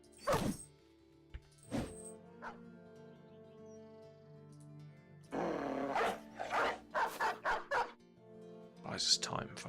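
Dogs in the Battle Brothers video game bark and yip in sharp, short bursts, first sparse and then in a quick run of several barks, over quiet game sounds and someone talking.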